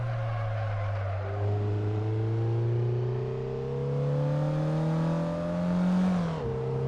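A Mazda MX-5 engine in the Assetto Corsa racing game revs steadily, its pitch climbing for several seconds as the car pulls hard before dropping sharply near the end, with no talk.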